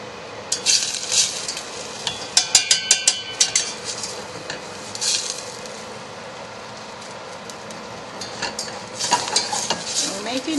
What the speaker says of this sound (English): Making a roux, this is what's going to help thicken the sauce